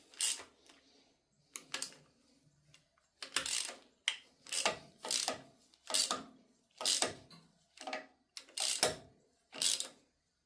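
Ratchet running down the head bolts on a 1950 Farmall Cub engine under rebuild, close and clicking in about ten separate bursts of rapid pawl clicks, with brief pauses between them.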